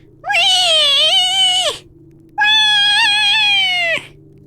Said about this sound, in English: In old videos, she sounds like a regular cat.